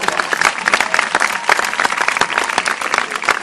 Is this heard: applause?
yes